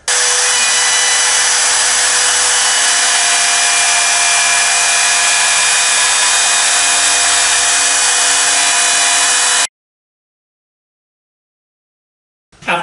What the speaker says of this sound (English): After several passes with the laminate trimmer, cutting the slots